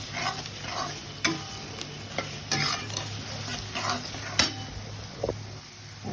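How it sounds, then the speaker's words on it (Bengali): Onions fry in oil in a pot for tehari, a steady sizzle broken by repeated spoon scrapes and stirring knocks at an uneven rhythm, close and fairly loud with no talking. "কিছুক্ষণ পেঁয়াজটাকে লাল করে নেব"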